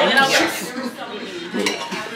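Collard greens with turkey neck being served at a family holiday meal, with close clinks and clatters of dishes and serving utensils, brief and moderately loud.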